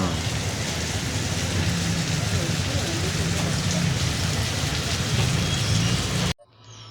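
Heavy rain pours in a dense, steady roar throughout, then cuts off abruptly near the end, leaving a quieter murmur.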